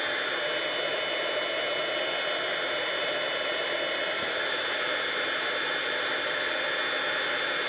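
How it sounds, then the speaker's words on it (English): A handheld heat gun melts embossing powder on a card, its fan roaring in a steady, loud, close hiss of rushing air that holds without a break throughout. "I'll take my heat gun, and I just want to really heat this up nice."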